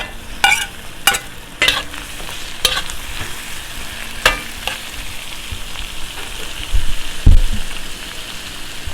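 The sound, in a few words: chili, ginger and tomato frying in a pan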